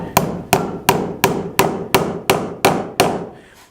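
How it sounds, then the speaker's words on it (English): A hammer drives cut nails through wooden boards in nine sharp, evenly spaced strikes, each loud, close, ringing briefly and then decaying, with no voices. "I'll just nail these through"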